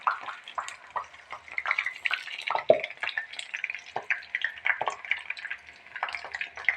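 Five-petal hibiscus flowers frying in hot oil with popped mustard seeds, stirred in the pan: quiet, intermittent scraping and light sizzling in irregular bursts, with no voice over it.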